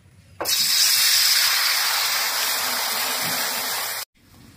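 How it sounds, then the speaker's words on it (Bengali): A bowl of water poured into a hot wok while making a traditional Bengali palm-fruit pitha: a sudden loud, close rushing hiss and splash that holds steady for about three and a half seconds, then cuts off abruptly. "কড়ার মধ্যে 1 বাটি জল দিয়ে দেব।"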